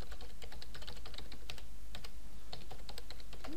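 Keys clack in quick irregular bursts on a computer keyboard while an email address is typed, close and fairly quiet over a low steady hum, with short pauses between runs of keystrokes.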